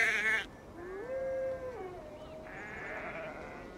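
A few synthetic sheep bleats from Assassin's Creed Valhalla, wavering and tonal, come one after another at moderate volume against a soft steady background.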